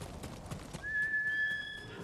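A horse neighs in the Ghost of Tsushima video game, a steady whinny that holds for about a second over faint hoofbeats and ambient game sound.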